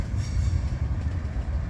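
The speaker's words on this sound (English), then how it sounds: "empty Herzog train" Empty CSX Herzog train heading eastbound, a loud close rumbling roll of railcars with steady low clatter throughout and no voices.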